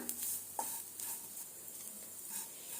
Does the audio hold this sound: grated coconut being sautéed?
yes